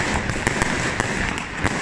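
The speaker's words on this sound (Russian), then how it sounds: "весь город просто-напросто во взрывах, петарды" Firecrackers and fireworks bursting all over a city on New Year's night, a dense continuous crackle with sharper pops every few tenths of a second, loud and close against a steady roar of distant blasts.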